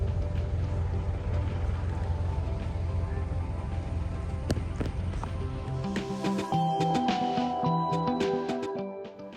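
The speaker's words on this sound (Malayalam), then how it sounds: "അങ്ങനെ ബോട്ട് നമ്മളെ കൊണ്ട് മുൻപോട്ട് പോയി" A houseboat motors through the Kumarakom backwaters and mangroves. Its engine gives a steady tonal drone with rhythmic knocking, and scattered clatter and water sounds grow near the end.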